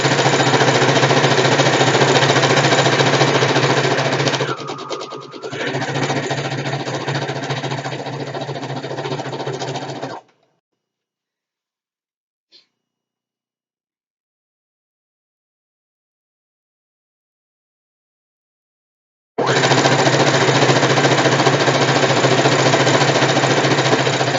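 A sewing machine stitches a satin pillowcase in two long, loud, steady runs of motor whirr, with a quiet pause between them while the fabric is turned.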